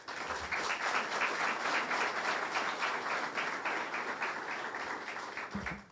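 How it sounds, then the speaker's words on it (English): A room full of people gives a warm round of applause for a chief of police at his retirement announcement, steady moderate clapping throughout that tapers off at the end as a voice begins. "a nice round of applause for our Chief of Police, Mr. Orlando Rodriguez"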